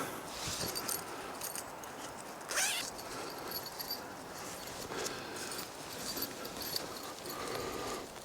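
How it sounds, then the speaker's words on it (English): A zipper is drawn open in short pulls along the front section of a hammock cover outdoors in the woods, soft and close over a steady background hiss. "So what I'm going to do is I'm going to unzip the front section."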